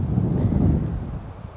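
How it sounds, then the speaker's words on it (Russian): Strong wind roars against the microphone in a dense, low buffeting rush outdoors during a bike ride, steady and loud before easing slightly toward the end, with no voices. "Вот ветер, ветер, ветер. Каждый день ветер."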